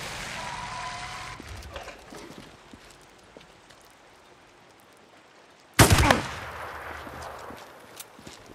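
A single loud, close gunshot bursts out mid-scene during a sniper ambush in the video game Days Gone, after a stretch of quiet rustling ambience with faint clopping.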